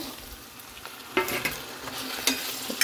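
Potato pieces frying in oil for a potato curry, a low steady sizzle broken by a few sharp scraping stirs of a spoon against the pan, close and uninterrupted by speech.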